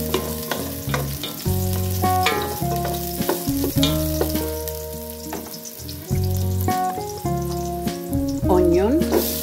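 Ginger sizzles steadily in a hot pan for an eggplant adobo, with stirring scrapes breaking through the close, continuous frying hiss over faint background music.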